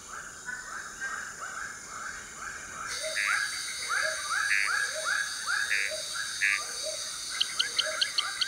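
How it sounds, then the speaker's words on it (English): A dense chorus of croaking and chirping frog mating calls in a Borneo jungle repeats in overlapping rhythmic bursts, with sharp high clicks joining near the end over a steady nighttime hum. "As many of Borneo's 180 species of frog now burst into song."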